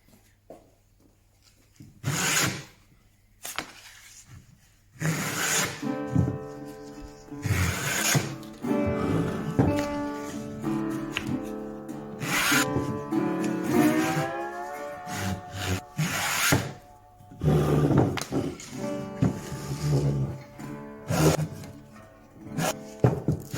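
A wooden stool leg is hand sanded in repeated back-and-forth strokes, giving a rough, rasping rub with squeaky, tonal scraping that comes and goes in close bursts, with brief pauses between passes.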